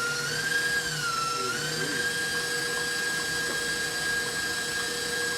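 An electric mixer beating cinnamon roll dough with two eggs, a steady high-pitched motor whine that dips briefly in pitch, running continuously and close.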